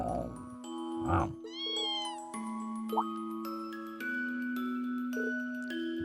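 A kitten in the video game Trails of Cold Steel gives several short, high meows over a steady bed of synth background music, with no talking.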